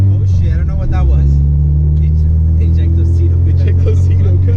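Loud, steady engine drone from a Honda EG hatchback with an H2B engine swap, heard up close with a low rumble that holds throughout.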